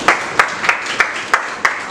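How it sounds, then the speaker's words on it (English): Clapping at an MBA orientation session: about six sharp, evenly spaced claps in a steady rhythm, fairly close and loud, with quieter background noise between them. "Let's give a big round of applause."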